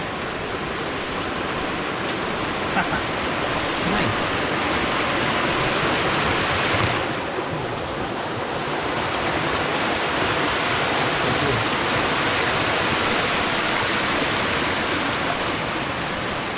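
Loud, steady rush of river water churning close by under a small bridge, broad and unbroken throughout; one short remark spoken over it.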